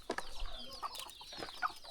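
Chickens cluck outdoors in a village, with a few short, quiet clucks and chirpy calls scattered over a couple of seconds against a faint background.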